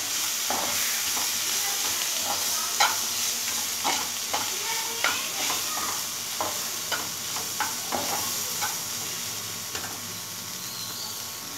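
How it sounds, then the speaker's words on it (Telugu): Curry masala with dry coconut powder being stirred in a frying pan, repeated scraping strokes in an irregular rhythm over a continuous close sizzle. "ఇప్పుడు ఎండు కొబ్బరి యాడ్ చేసుకుందాం ఎండు కొబ్బరి పొడి యాడ్ చేసుకుందాం ఓకే దీని అంతా బాగా కలిపేసుకోవాలి ఒకసారి"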